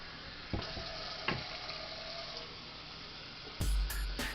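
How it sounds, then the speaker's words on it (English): Two cups of water poured into Aunt Jemima pancake mix in a bowl, a steady soft splashing rush with a few sharper clicks and a louder knock near the end. "I'm going to add 2 cups of water"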